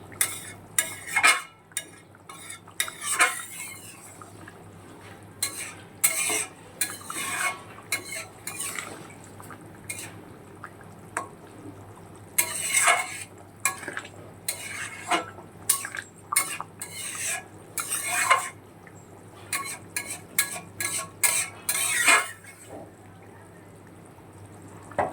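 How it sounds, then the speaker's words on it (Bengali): Fish curry with fried fish pieces simmers in a pot while a utensil stirs and scrapes against the metal in repeated short clinks and scrapes over a low, steady bubbling and faint sizzle, close and moderately quiet. "এবার আরও 2-3 মিনিট ফুটিয়ে নেবো মাছের ঝোলটা"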